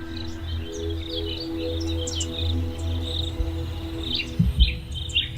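Cricket chirping in a wild setting, repeated high trills over a steady low hum, with a few brief bumps near the end.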